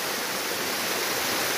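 Waterfall at Goiabal in Bom Jardim, a continuous loud broadband roar of falling water heard close up with no voices.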